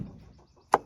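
A single sharp knock from tapping a connecting rod on a spare 302 engine crank comes after near silence, close and brief with no voices.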